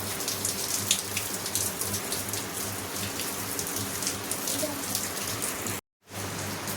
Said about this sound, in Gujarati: વરસાદ વધ્યો હો ને જો